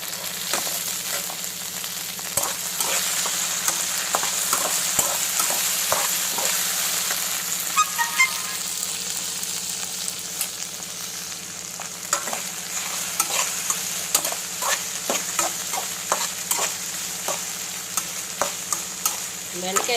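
Okra (bendakaya) curry cooks on a low flame in a pan, a constant close sizzle broken by frequent stirring scrapes and clicks of a spoon, with no talking throughout.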